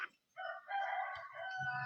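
A neighbour's rooster crows once, a drawn-out cock-a-doodle-doo heard faintly at a distance from outdoors, with no talking.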